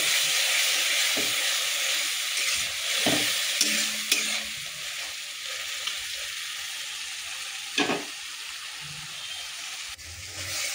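Tomato, onion, garlic-ginger-cumin paste and spices such as salt, turmeric and chili fry in a pan for a fish and potato curry, giving a loud, steady sizzle with occasional stirring scrapes throughout.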